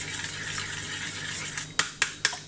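A spoon stirs a banana cough remedy mixture in a container, soft scraping at first, then four sharp, evenly spaced clinks of metal against the bowl, close and quiet.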